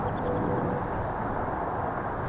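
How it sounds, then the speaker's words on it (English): An airplane passes overhead near a busy airport, heard as a steady, broad rumbling roar that stays loud and even throughout at an outdoor bluff-top campsite. "There's another plane."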